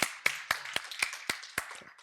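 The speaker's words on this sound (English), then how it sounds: "One more round of applause for the Orga crew, the tech crew, all the guys who are making it happen" A small audience claps for an event's organizing and tech crews in a sparse round of seven or eight distinct, fairly close claps that thin out toward the end, with no talking over them.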